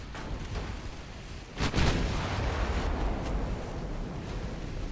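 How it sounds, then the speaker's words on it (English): A warship's main guns fire at cruisers in a naval video game: a rumbling barrage with one sharp, heavy blast near the middle, over a continuous roar of battle noise. "main guns target the heavy cruisers, light guns target the light cruisers"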